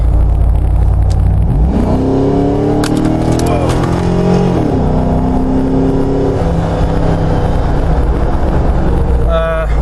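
An LS V8-swapped Jeep Wrangler JK accelerates hard from 40 to 60 mph on a freeway, engine rising in a loud, close interior roar with climbing pitch and a shift partway through, over heavy road rumble.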